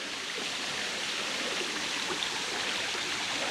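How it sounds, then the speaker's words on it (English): Small trickling brook cutting through rocks on a redwood hike near Dawn Falls in Larkspur, California, a steady, close, hissing wash of running water with no talk. "little trickling brooks here cutting through the rocks"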